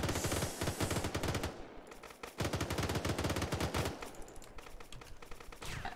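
Rapid automatic gunfire from weapons being tested at shooting booths in a sci-fi modded video game, dense bursts of shots running almost continuously with a brief pause midway.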